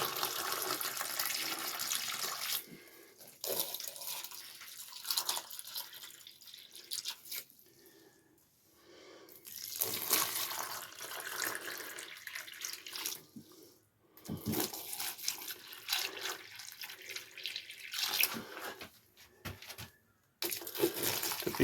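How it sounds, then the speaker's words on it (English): Cucumber plants in a greenhouse being watered, with a close splashing, trickling flow that runs in uneven bursts and stops briefly a few times. "Good water to start them off."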